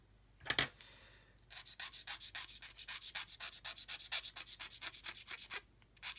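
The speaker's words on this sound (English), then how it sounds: "we're going to sand some more away from here." A quiet, rhythmic back-and-forth scratch of hand sanding on a model buff build part, about twenty even strokes after a couple of brief opening scrapes, close and without talk.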